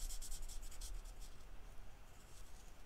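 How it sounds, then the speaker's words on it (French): Pen coloring a paper mask, a quiet, close scratching and rubbing with quick rhythmic strokes at first, then softer continuous shading. "Et là, ben, je vais venir les colorier."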